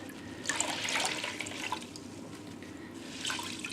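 Water splashes and drips as a wet knitted lace scarf is lifted from a soaking basin and wrung out, a soft, close, continuous trickle with brief louder pours.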